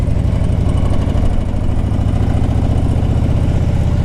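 A 2004 Harley-Davidson Ultra Classic's big V-twin engine runs at a steady idle, a loud, close, throbbing low rumble with an even pulsing beat throughout.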